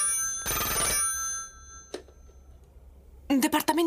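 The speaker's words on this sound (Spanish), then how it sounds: "Conecta el teléfono para el señor Grimm." A vintage 1930s telephone bell rings in a short loud burst, followed by a faint click and a brief second ring, and then someone speaks in Spanish close by.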